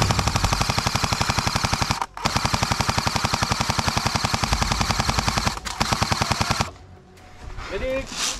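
An S&T MK46 airsoft machine gun fires long rapid sustained bursts during an airsoft game, loud and close with a fast even rattle, broken by two short pauses before stopping, followed by faint voices.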